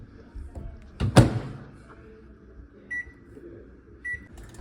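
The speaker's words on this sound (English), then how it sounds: "Set your microwave and wait for it to finish." Microwave oven cooking a chocolate-banana pudding mixture: a sharp clunk of the door or button, a low running hum, then two short high beeps as it finishes.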